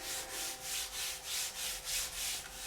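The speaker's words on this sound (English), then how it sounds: "And then I'll just give it a real good rub," Polishing compound is worked by hand into a leather strop for a straight razor, making a soft, quiet swishing rub repeated in an even rhythm of about six back-and-forth strokes.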